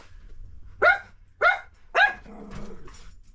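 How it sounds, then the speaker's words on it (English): Three sharp, fairly close dog barks at even half-second spacing, followed by a lower rumbling growl-like murmur, in an otherwise quiet indoor setting. "There's the doggies."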